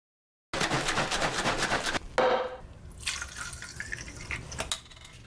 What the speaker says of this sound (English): take some wood stripper, WD-40, and industrial grade floor cleaner, mix it all together